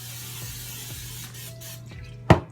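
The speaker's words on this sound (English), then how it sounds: "And then I'm also going to spray these with coconut oil." Coconut oil is sprayed onto vegetables in a pan: a faint hissing spray over a steady low hum, ending in one short, louder burst.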